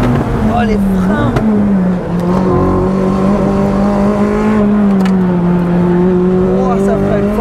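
A sports car driven fast on a track, its engine droning loud and steady with shifting pitch and brief dips as it brakes hard, while people talk over it throughout.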